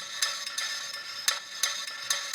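Layered techno synth lead pitched higher for a second drop in future rave big room techno, bright, crisp stabs pulsing in an irregular rhythm at moderate level with no talk.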